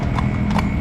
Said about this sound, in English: Horses getting a little excited with all these cars here